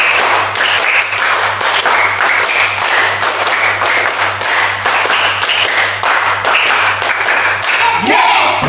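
A school class doing a rhythmic counting clap game, loud, close, repeated bursts of many hands clapping in patterned groups, with a teacher's voice chanting over the beats.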